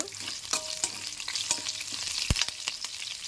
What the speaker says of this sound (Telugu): ఇప్పుడు మనం మసాలా దినుసులు కూడా ఆయిల్లో వేసుకుని వేపుకుందాం